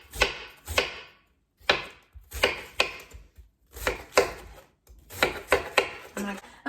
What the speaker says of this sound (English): you want to cut your cabbage into basically shreds